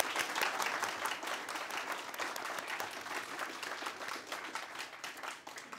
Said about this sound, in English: give a big round of applause to both candidates